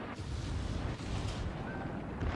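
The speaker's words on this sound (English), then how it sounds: "I'm aiming my guns and firing at him" Warship guns firing in World of Warships, a heavy rolling barrage of deep booms and rumbling blasts that carries on steadily and loudly without a voice over it.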